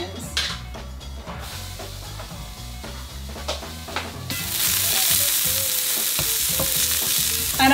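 Onions frying in a pan for breakfast burritos give a steady sizzle with clinks of stirring; a louder, brighter hiss comes in about halfway through, and there is some faint background sound.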